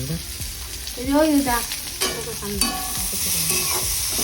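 Pointed gourd slices fry in a pan with a continuous close sizzle and occasional scraping stirs, while people talk over the cooking noise throughout.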